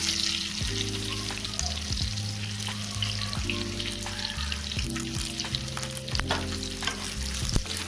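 Pointed gourd (patal) pieces fry with green chilies in an open pan, a loud, close sizzle with occasional stirring scrapes. The sizzle runs steadily throughout, with no talk over it.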